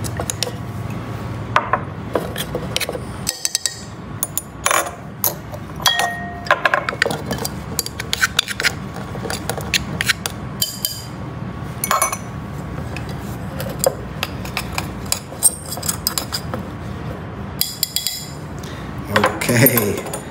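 Fake snow mixture is stirred in containers for a children's science experiment, giving a long run of close, irregular scraping, clinking and rubbing sounds.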